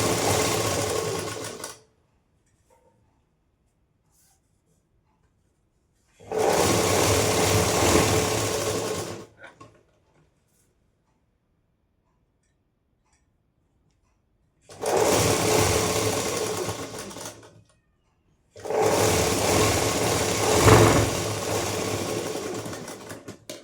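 A sewing machine stitching a blouse runs in four close, steady bursts of rapid needle chatter, each lasting a few seconds, separated by silent pauses.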